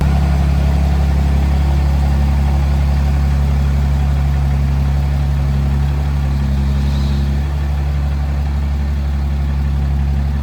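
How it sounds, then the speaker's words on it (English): Truck engine idling steadily in neutral after a rebuilt 68RFE transmission install, a loud, even low rumble with a constant hum throughout and no change in pitch. "So we have the truck fired up, we stuck it in neutral, getting all the fluid dumped inside of it."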